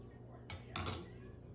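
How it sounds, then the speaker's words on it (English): Spoon stirring a coffee drink sweetened with butter pecan syrup, a couple of quick metallic clinks against the cup, soft and close, with quiet room tone around them. "I'm gonna give it a little stir."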